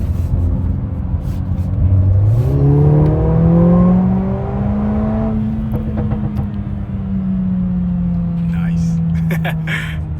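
A Mercedes-Benz A45s AMG four-cylinder engine revs up from idle, its pitch climbing and holding high before settling back, with a few crackling pops near the end; the engine sounds close and loud.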